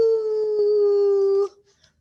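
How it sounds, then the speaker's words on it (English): A single sustained dog howl, loud and close, holding one steady pitch for about a second and a half before cutting off into quiet. "Scared him when he howled."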